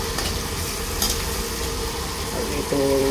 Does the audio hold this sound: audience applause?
no